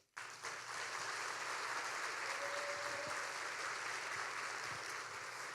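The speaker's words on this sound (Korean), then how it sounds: "다시 한번 격려의 감사와 격려의 박수 드리기 원합니다" Applause from a conference audience as officers and board members stand at a Korean CBMC business fellowship convention, soft, even clapping that starts abruptly and continues steadily at a distance.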